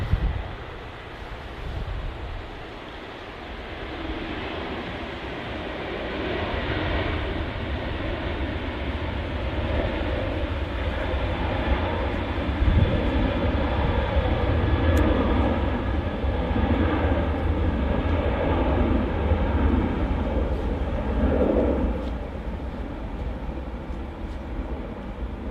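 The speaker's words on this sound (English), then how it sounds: "Ryanair 737-800 next out though" A Ryanair Boeing 737-800 departs Manchester Airport's runway 05L with a broad, sustained jet roar that swells and holds for about twenty seconds, heard from a distance and mixed with wind buffeting on the microphone.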